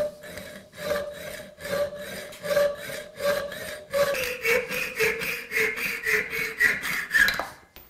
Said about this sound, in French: qui est une scie à métaux, mais qu'on appelle en général junior, et qui a des dents très très fines